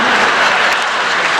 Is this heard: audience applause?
yes